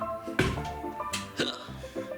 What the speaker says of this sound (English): Disapproving hiccups.